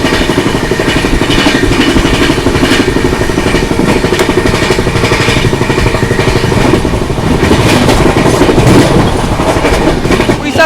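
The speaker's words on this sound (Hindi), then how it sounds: "उड़ीसा संपर्क क्रांति overtake LTT Rajgir express train." The Odisha Sampark Kranti Express runs fast on the rails near Chunar Junction while overtaking another express. A loud, continuous rumble carries rapid rhythmic wheel clatter and rattling throughout.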